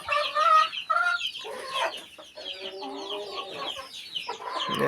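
Several chickens cluck and squawk close by in a farmyard pen, a busy overlapping chorus of short calls that continues throughout with no talk.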